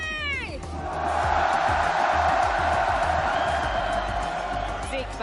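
Loud esports arena crowd at the Fortnite Global Championship 2025 in Lyon, a roaring wall of cheering and screaming that swells and holds, with whistles and a host's voice at the start.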